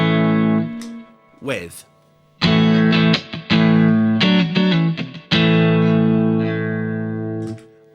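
Electric guitar through a compressor pedal, first played dry with short phrases and a pause, then fuller sustained chords ringing out evenly once the compressor is engaged; a brief spoken word in between.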